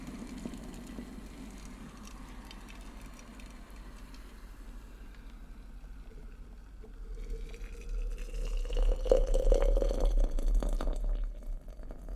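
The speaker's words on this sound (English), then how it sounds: "Just gonna get the freshly boiled water." Freshly boiled water poured from a kettle into a cup for tea, a faint quiet setting that builds into a closer, rising trickle and splash toward the end.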